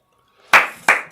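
Two separate loud claps about a third of a second apart, close and dry, from a single person applauding during a talk rather than a full audience.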